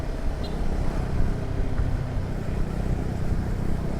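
KTM Adventure 390 motorcycle being ridden, a steady engine drone mixed with wind rush heard from on the bike, continuous and fairly loud throughout.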